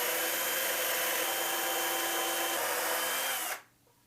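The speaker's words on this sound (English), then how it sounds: "now I can use a drill and drill the holes" Power drill boring mounting holes in a wall for a Tapo C615F security camera kit, a loud steady high whine running continuously before stopping abruptly near the end; no talking.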